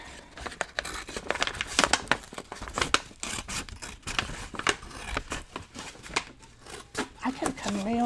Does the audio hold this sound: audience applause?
no